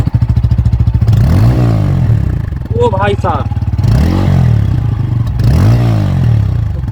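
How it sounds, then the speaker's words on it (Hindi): A 2026 Bajaj Pulsar N160 single-seat motorcycle revs repeatedly up close, its engine rising and falling in several loud throttle blips over a steady rumble, with a man briefly calling out partway through. "अभी मैं एक्सीलरेट करूंगा, आप सुनना साउंड कितना ज्यादा जबरदस्त है इसका"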